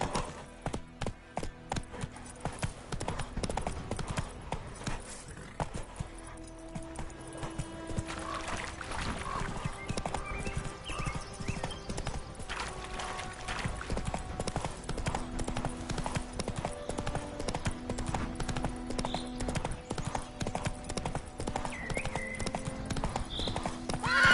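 Roach, the horse from the video game The Witcher 3, gallops with a steady, loud rhythmic clip-clop of hooves close by, continuing throughout with a brief whinny and game background sounds layered underneath.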